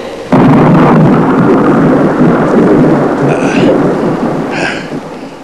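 A heavy thunderstorm breaks in with a loud crack of thunder and a long rolling rumble over steady pouring rain, with a couple of brief higher bursts near the end.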